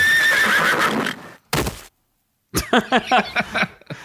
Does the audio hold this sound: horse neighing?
yes